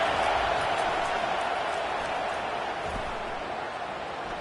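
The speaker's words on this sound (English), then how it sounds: "Listen to this crowd just shaking the girders of this place" A stadium crowd roaring loudly for its defense at a football game, a dense continuous wash of noise that slowly eases over a few seconds.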